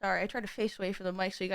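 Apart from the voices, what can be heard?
No distinct noise like a dog, phone or traffic.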